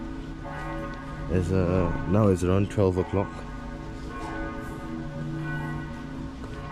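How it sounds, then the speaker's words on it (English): Church bells of Schladming's cathedrals in the Austrian Alps chime together at noon, a steady ringing wash heard at a distance beneath a man's brief spoken remark. "you have 3 cathedrals here that are all chiming at the same time"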